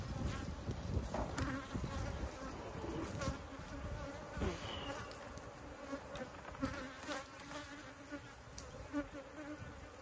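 Honey bees buzz steadily inside a hive being used to raise queen cells, a dense continuous hum close by with scattered louder passes of individual bees throughout.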